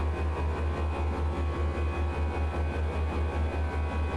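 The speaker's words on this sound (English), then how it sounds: "These engines sound really weird." Airbus A320 engines in the Flight Factor simulator drone steadily, a low pulsing hum with a regular throb and broad background roar, continuous and even throughout.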